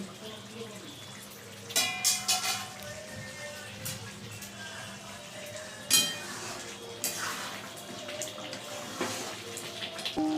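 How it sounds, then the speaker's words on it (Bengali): A metal lid is lifted off a cooking pot of green chicken, giving a few clanks and scrapes of metal against metal amid soft kitchen clatter and quiet background noise. "ঢাকনাটা খুলে নিচ্ছি"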